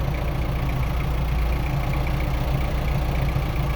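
A tractor engine runs steadily in first gear, a close, continuous low rumble with an even mid-range drone and no pauses or talk.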